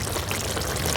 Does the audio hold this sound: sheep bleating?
no